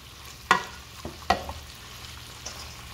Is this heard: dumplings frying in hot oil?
yes